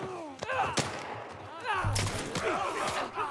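Gunshots ring out in The Last of Us Part 1, several sharp, loud cracks in quick succession amid voices and other game sounds.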